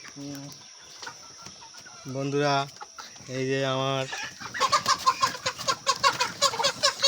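Chickens cluck and squawk repeatedly at close range as a poultry dealer takes the birds, with harsh agitated calls growing busier toward the end while someone speaks between them.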